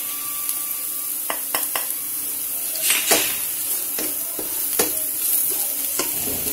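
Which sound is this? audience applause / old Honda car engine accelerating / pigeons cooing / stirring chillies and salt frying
stirring chillies and salt frying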